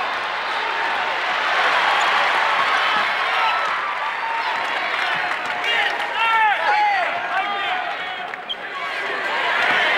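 A basketball arena crowd at Indiana versus Michigan roars and cheers in a sustained wash of noise, with a commentator speaking over it.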